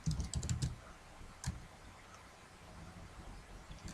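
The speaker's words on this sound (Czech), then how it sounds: "od tebe slyším ty zvuky jako tlačítka z klávesnice" Computer keys click in a quick cluster of close, light presses, then a single tap after a pause and a faint one near the end, over quiet background noise during a Minecraft game.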